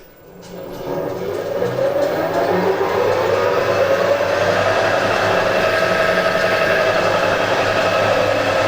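A metalworking machine, used in making a 5 tpi tandem ACME tap, runs steadily on its high range to warm up, a loud continuous whirring drone rising in the first second and then holding even, with no talk.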